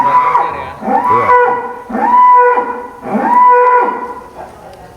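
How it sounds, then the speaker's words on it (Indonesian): Large sacrificial cattle at a farm moo loudly and close by, four long lowing calls in steady succession with short pauses between them and no talking. "sapi-sapi ini"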